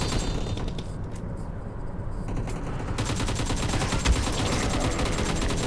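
Rapid gunfire from a video game, PUBG Mobile infection mode, shooting at zombies: dense repeated shots in a steady burst-like rhythm, close and loud throughout, with no talking.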